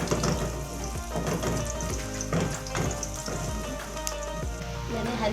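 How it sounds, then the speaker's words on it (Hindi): Ginger and garlic fry in a spoonful of oil for a chicken and vegetable roll filling, giving a steady close sizzle with occasional stirring clinks and no talking. "इसमें अदरक और लहसुन डालेंगे और इसको भून लूँगी।"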